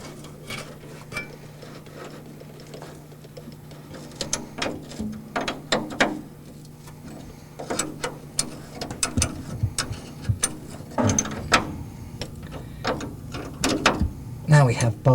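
Ratchet and spanner clicks tightening nuts and bolts on a Rolls Royce Silver Cloud brake servo, with bursts of short mechanical clicking repeated through the clip over a low steady hum, close by.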